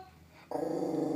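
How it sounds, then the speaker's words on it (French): A dog growls suddenly and loudly after a quiet moment, a sustained rumbling snarl close by that fills the rest of the moment. "c'est mon chien qui n'est pas très content apparemment"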